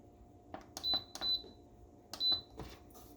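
An Instant Pot control panel gives three short, high-pitched electronic beeps with a pressure-cook button press, each beep sharp and close against quiet kitchen background.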